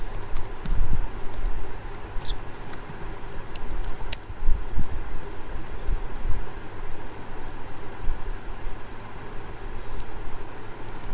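Fingers typing on a computer keyboard, irregular light clicking keystrokes in short bursts over a low, steady background hum, with no speech.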